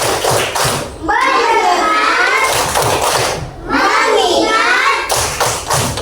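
Schoolchildren in an Indonesian classroom perform a rhythmic clapping chant, claps thudding in steady bursts with their voices chanting together, loud and close, split by two short pauses.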